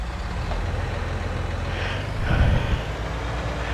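Tractor engine in the video game Farming Simulator 19, a steady low diesel rumble that swells briefly past halfway before settling back to an even idle.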